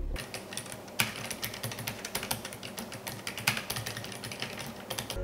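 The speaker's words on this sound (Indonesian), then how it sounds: "Untuk Keychron K3 ini saya juga pakai Gateron Red, dan karena ini adalah optical switch, rasa kliknya itu lebih cetek dan cenderung lebih silent juga." Rapid typing on a Keychron K3 low-profile keyboard fitted with Gateron Red optical switches, producing a fast, uneven patter of soft, close keystroke clicks with a few louder taps, heard alone.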